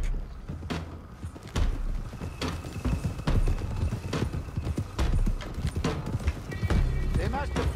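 Horses gallop with steady clip-clop hoofbeats in the Red Dead Redemption 2 video game, loud and continuous as a group of riders sets off, with occasional whinnies, under voices talking.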